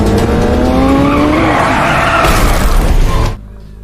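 A car in a film scene speeds off with loud squealing, skidding tires and a rising engine roar that cuts off sharply at the end.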